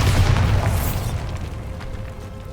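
In the Hogwarts Legacy video game, a Bombarda spell goes off with one deep, loud boom that rumbles briefly and decays over a couple of seconds.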